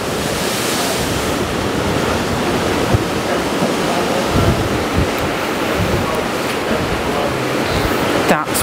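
Ocean waves heard from a small boat off Kauai: a steady, loud roar of surf and water rushing past, mixed with wind buffeting the microphone, continuous throughout with a few brief knocks and a faint squeal near the end.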